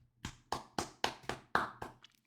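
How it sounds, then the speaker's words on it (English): A small group claps in a few slow, sparse rounds, seven or eight distinct beats fading out at the end, close by and with no voices. "Can I get the clap for America?"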